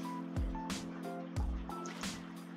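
Water placed in a video game to make an infinite water source, heard as a few short splashy, gurgling pours in quick succession over a steady electronic hum.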